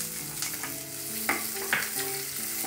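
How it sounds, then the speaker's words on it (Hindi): Chopped onions sauté in a pan with cardamom and cumin, making a steady sizzle. Two sharp stirring scrapes and a faint tonal hum in the background sit under it. There is no talk. "तो उधर हमारे अनियन सॉटे हो रहे हैं"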